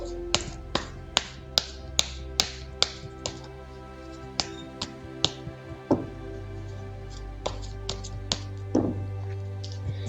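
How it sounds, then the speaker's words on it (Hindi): Tarot cards being shuffled by hand, a series of sharp, close taps and snaps in a quick irregular rhythm, with a couple of softer rustling flicks later on, no talking. "चलिए पहले ज़रा कार्ड्स को शफल कर लेते हैं"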